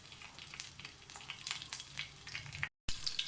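Cumin seeds, a curry leaf and a dried red chili fry in hot oil for a moong dal tadka, giving a steady close crackle and sizzle with a brief dropout near the end.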